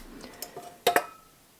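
A spatula scrapes a mixing bowl during Decadent Turtle Cheesecake batter-making, with soft scattered clinks and then two sharp, close knocks of utensil against the bowl, fading into quiet.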